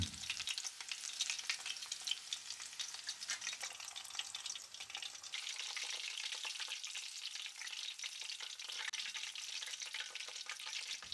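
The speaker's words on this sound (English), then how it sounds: "Nice, I've deep fried them." Continuous crackling and sizzling of breaded chicken cutlets deep frying in hot oil, close and steady, with a busy hiss throughout and no talking.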